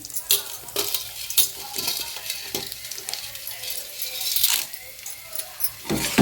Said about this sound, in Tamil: கடலைப்பருப்பு, உளுத்தம்பருப்பு எடுத்து வச்சுருக்கோம் இல்லையா, அது எல்லாமே சேர்த்து நல்லா ஃப்ரை பண்ணணும்.